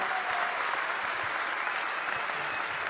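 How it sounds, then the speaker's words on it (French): Audience applause at a Vendée Globe 2016 awards evening, a steady, even roar of many hands clapping at moderate distance, with no talking over it. "Je voudrais qu'on applaudisse à nouveau Arnaud Boissière,"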